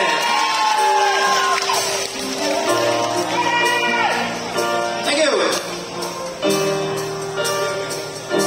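A concert audience cheers and whoops for the singer, loud crowd shouts and calls layered over sustained music tones, with voices heard throughout.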